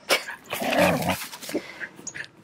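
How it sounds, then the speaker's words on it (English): Dogs give a short burst of barks and growly yips close by, loud at first and then trailing off into smaller whimpering yips, with no talk over them. "Dogs."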